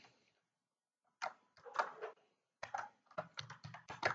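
Computer keyboard typing comes in short irregular bursts of close, crisp key clicks after about a second of near silence, with no voice over them.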